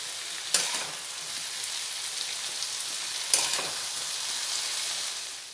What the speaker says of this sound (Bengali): বেগুনগুলো 1 মিনিট একটু ভালো করে নাড়াচাড়া করে নিয়েছি, এবারে সব সবজি তুলে নেব